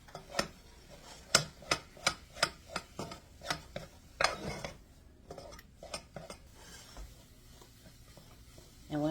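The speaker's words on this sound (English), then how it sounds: "So just keep stirring and put you down here a little." A utensil stirs flour in a pot on the stove, giving a regular series of sharp metallic scrapes and clinks in an even rhythm that later grows softer and more scattered.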